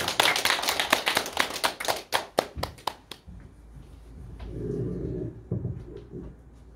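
Congregation clapping during a Sunday service at a Korean church, a burst of claps that thins into scattered final claps after about three seconds, followed by a quieter low murmur and shuffling.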